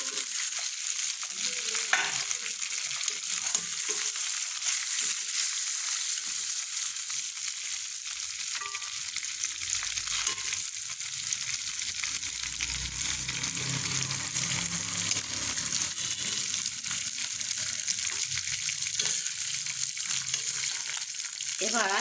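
Onions, chillies and mixed spices fry in a pan with fish, producing a continuous bright sizzle with scattered pops and stirring scrapes, alone and fairly close.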